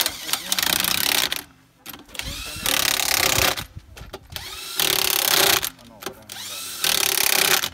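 Power impact tool tightening wheel nuts on a Toyota HDJ100 Land Cruiser during a flat tyre change: several loud, close bursts of whirring and hammering separated by short pauses, with voices talking nearby.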